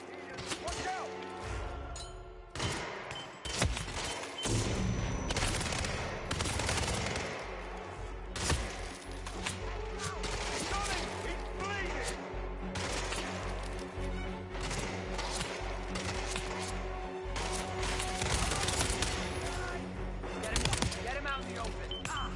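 Rapid bursts of automatic gunfire and explosions roar through a Hitman World of Assassination Freelancer firefight, dense and loud almost throughout, with shouted commands over the shooting.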